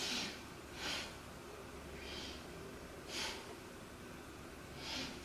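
Five slow, deep breaths during a paused beginner yoga pose, each a soft airy whoosh spaced about a second or two apart, close and quiet with no talking.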